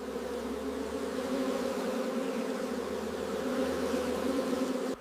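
Honeybees at an Indian honey farm hum in a dense, steady drone that stays loud and continuous throughout, with no voices over it.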